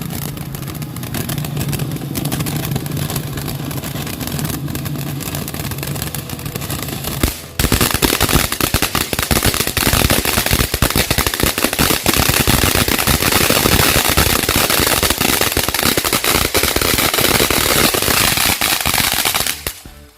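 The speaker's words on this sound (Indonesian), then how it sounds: "selanjutnya ini kita nyalakan mercon air mancur jumbo" A jumbo fountain firework is lit at night during Ramadan, starting as a steady hissing spray, then breaking into a loud, dense crackle of rapid pops that runs continuously for about twelve seconds before stopping abruptly.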